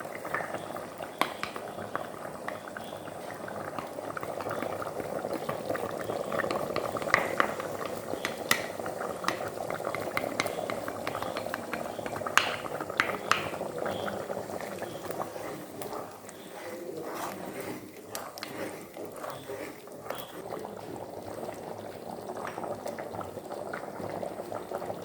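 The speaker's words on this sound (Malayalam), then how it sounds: "മട്ടനൊക്കെ ഇട്ട് കഴിഞ്ഞിട്ട് നല്ല തിളച്ച് വന്നിട്ടുണ്ട്" A pot of Kerala-style mutton stew at a rolling boil, giving a steady, busy bubbling and gurgling that runs continuously at moderate loudness with no voices over it.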